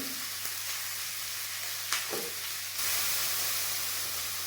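Sliced onions with salt, curry leaves and chilli sauté in a hot pan, giving a steady close sizzle with a few scraping stirs and a louder burst of frying hiss toward the end.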